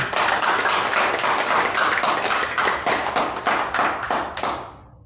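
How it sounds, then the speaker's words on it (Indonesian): An audience claps at a religious gathering, a steady, dense patter of many hands that holds for several seconds before tapering off and stopping abruptly, with no speech. "Tepuk tangan"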